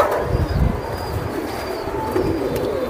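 Pigeons coo softly amid a dense, steady murmur of birds, with low throaty calls rising now and then against constant background noise; no voices are heard.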